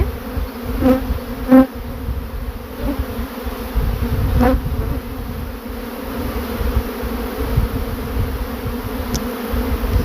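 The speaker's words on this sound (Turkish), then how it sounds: "Şu uçan arılar peki?" A dense, steady buzzing of a swarm of many honeybees flying nearby, continuous throughout with a few louder passes close by.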